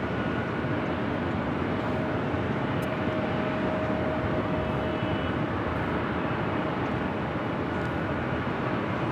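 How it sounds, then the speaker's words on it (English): A nine-year-old Lufthansa Boeing 747-8 Intercontinental jet airliner at LAX, a steady, moderately distant roar that holds evenly throughout with no breaks. "this is flight 457 heading back to Frankfurt. It's a 9-year-old 747-8 Intercontinental"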